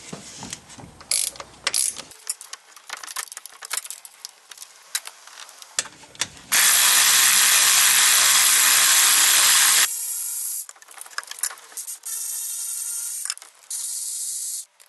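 A hand ratchet with a 13 mm socket clicks in quick bursts while backing out the alternator mounting bolts on a 2008 Dodge Avenger, close up, followed by a long, steady whirring buzz and more ratcheting, with no voices.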